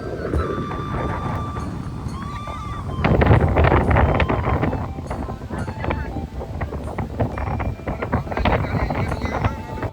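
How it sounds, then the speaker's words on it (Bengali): Strong wind blows at a river estuary on a cloudy dawn, roaring and buffeting the microphone steadily throughout, with a louder gust partway through and faint background sounds beneath. "বিশাল হাওয়া দিচ্ছে"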